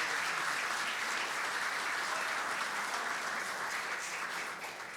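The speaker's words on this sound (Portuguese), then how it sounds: "Pode aplaudir." A church congregation at a worship service claps steadily, a dense, even wash of applause filling the room for the whole stretch and easing slightly at the end.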